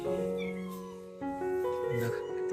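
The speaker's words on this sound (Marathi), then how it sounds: "आणि इथंच मांजर आहे." Cat at a rural village house, a few drawn-out meows up close, with a voice speaking over them.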